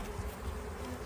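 Honey bees buzz at a hive with a mesh sheet over its entrance in a subarctic beekeeping yard, a brief, faint, steady drone without any voices.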